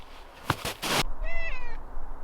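A black cat meows once, a clear rising-and-falling cry close by, just after a few short rustling thumps.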